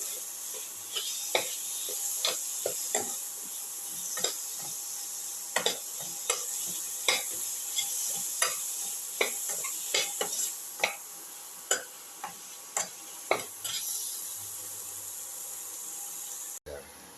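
Cauliflower pieces stirred and mixed in a pan for a casserole, repeated scraping and clacking strokes of a utensil over a soft steady background hiss, close and fairly regular throughout.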